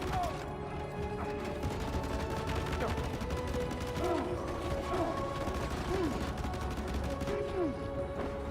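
Gunfire in Death Stranding 2, continuous bursts of rapid mechanical shots and clattering under busy game noise, with occasional voice sounds mixed in.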